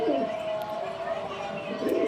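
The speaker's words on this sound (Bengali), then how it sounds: "এই কবুতরগুলো মূলত আমার খুব শখের কবুতর।" Afshan grizzle pigeons coo softly and steadily nearby, a low continuous burbling that lasts through the whole stretch at moderate volume.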